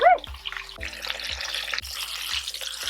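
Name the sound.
dredged vegan chicken frying in oil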